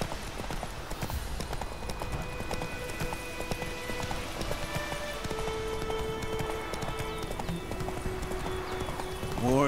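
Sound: horse Roach galloping in The Witcher 3 video game

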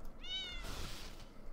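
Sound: cat meowing in the video game Fowl Space

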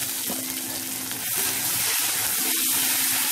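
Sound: frying spice pastes in a pan, sizzling

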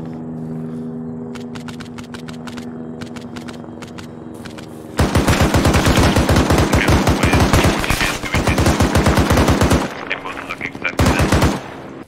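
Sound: automatic gunfire in video game Arma 3

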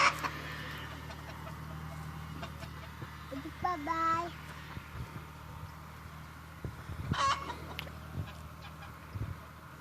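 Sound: geese and ducks calling

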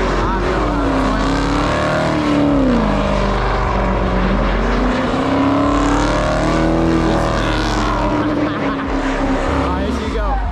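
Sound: Dodge Charger drifting in a parking lot

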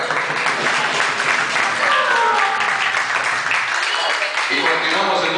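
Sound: audience applause

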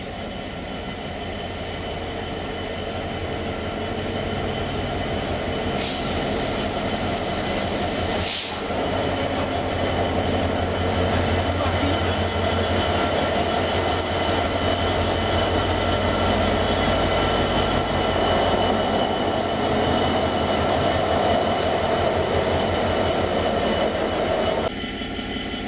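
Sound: Euro Cargo Rail Class 66 locomotive passing

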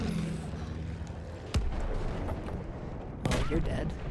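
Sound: gunfire in video game Battlefield 1

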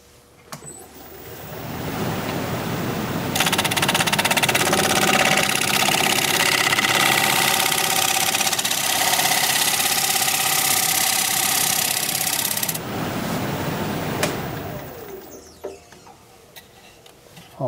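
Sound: wood lathe turning a bowl with a 1/2-inch bowl gouge

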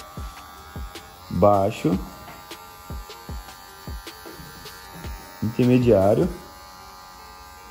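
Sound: electric hair clipper cutting a fade

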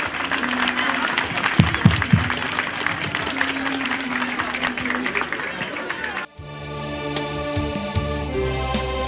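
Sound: applause

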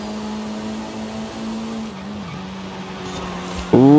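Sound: race car sliding in a racing video game

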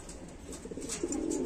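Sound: pigeons cooing

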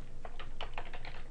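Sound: typing an address on a computer keyboard

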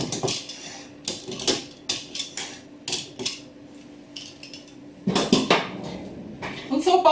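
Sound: fork poking holes in chilled shortcrust pastry dough

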